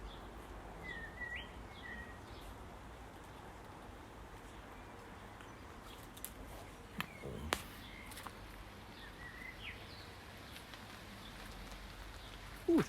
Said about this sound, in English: it's actually raining a bit harder now.